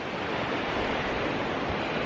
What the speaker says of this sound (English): You can see just water flowing down from all these little streams into the main river back there.